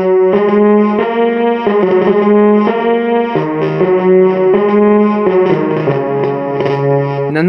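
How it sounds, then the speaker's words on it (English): A synth string patch plays through a circuit-bent DOD Bass EQ pedal, which distorts the attack of each note. Loud sustained chords change every second or so, leaving a gritty distortion in the background. "It's very interesting that it only distorts the attack of your sound, and then the distortion becomes a noise in the background"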